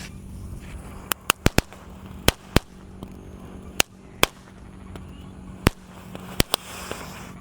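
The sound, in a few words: firecracker exploding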